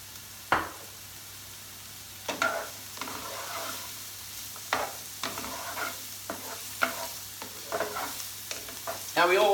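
Onions and spinach frying in a pan, spaced scraping stirs and clatters over a faint steady sizzle, close by with quiet gaps between strokes and no voices.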